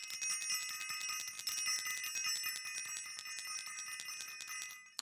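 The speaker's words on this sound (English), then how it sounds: "I want to ring the bell." A bell rings rapidly and repeatedly in a steady, bright tinkling run for several seconds, clear and close, with no voice over it.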